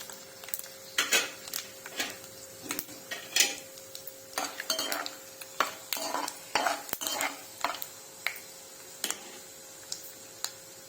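Tempering spices hit hot oil in a pan for a potato and fenugreek-leaf fry, crackling and popping in irregular sharp clicks over a faint sizzle, with light stirring taps and no voices.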